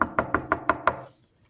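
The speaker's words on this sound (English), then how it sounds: "to Granny's house and knocked on the door." Six quick knocks on a door in an even, brisk rhythm, close and fairly loud, then silence; no voices.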